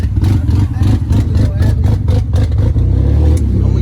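BMW 5 Series engine running with a leaking exhaust after broken flange studs, a loud close rumbling idle with ticking, puffing exhaust pulses and slight revving.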